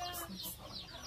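Several chickens cluck and squawk close by in a quick overlapping flurry, with a steady background hum.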